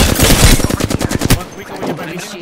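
Rapid bursts of automatic gunfire in the battle-royale shooter Apex Legends, loud and close, a dense rattling volley that cuts off abruptly partway through, leaving quieter game ambience.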